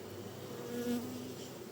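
A soft, steady buzz of many honeybees swarming close by around an open hive, a continuous hum that swells briefly in the middle.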